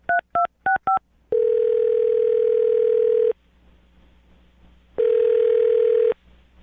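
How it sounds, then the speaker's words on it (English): A telephone is dialed with four quick touch-tone beeps, then a loud ringback tone sounds for about two seconds, pauses in near silence, and rings again, all close and clean. "I'm going to dial his phone number right now"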